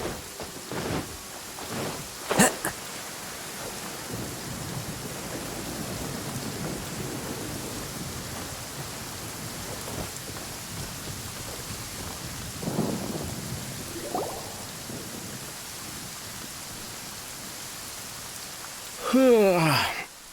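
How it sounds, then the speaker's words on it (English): Steady heavy rain hisses through a downpour in Genshin Impact while thunder booms and cracks several times, loudest near the start and end. "Taking a stroll in the middle of a downpour certainly rouses the spirit."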